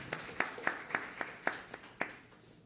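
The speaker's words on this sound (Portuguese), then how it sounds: "Vamos aplaudir Josafá, gente?" About eight sharp hand claps sound at an even, steady pace, fairly quiet and close, then stop, as an audience applauds during a church sermon.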